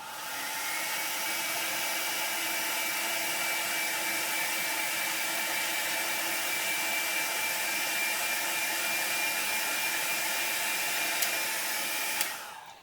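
Hair dryer blowing steadily and loudly on an alcohol ink painting of a soft, fuzzy flower center, a continuous airy whoosh running nearly thirteen seconds before cutting off abruptly.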